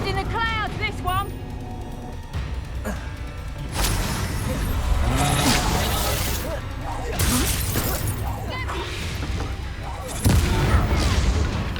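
Spell blasts from Bombarda and Confringo in the Hogwarts Legacy video game on PS5, heavy booming and shattering bursts recurring through a dense battle mix, with a character shouting spell names over them.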